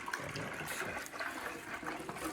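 Hot water poured from a kettle into a container while mixing lime for a homemade Bordeaux mixture, a steady continuous splashing pour close by, with no talking.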